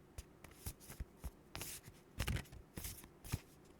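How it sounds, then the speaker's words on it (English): Tarot cards being shuffled by hand, a close, soft run of papery riffles and slaps in uneven bursts, quiet and alone with no talk. "at least the card shuffling is nice"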